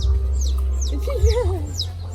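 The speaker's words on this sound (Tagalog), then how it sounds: "Manok yan." Chickens cluck and chirp repeatedly on a farm, with high peeping chick calls over a steady, loud low rumble.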